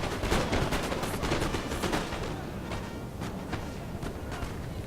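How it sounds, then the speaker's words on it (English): Massed gunfire from many units, including accurate mounted riflemen, concentrates on a single unit in a strategy video game. Dense, overlapping rapid shots form a continuous crackling barrage at moderate volume, with no speech. "It's a lot of guns firing at one unit."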